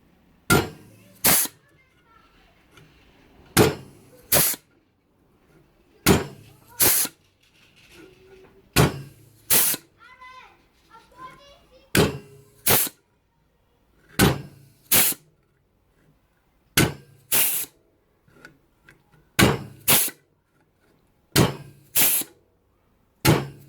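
Repeated sharp metallic clunks from a hand flanging tool crimping a flange along the edge of a classic Mini floor panel, about two firm squeezes every couple of seconds, close and loud, with a brief quiet spoken stretch midway.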